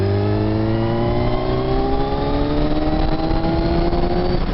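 A Kawasaki Z1000R motorcycle pulls hard in sixth gear, its engine note climbing steadily in pitch over a loud, continuous roar with wind rush and no speech.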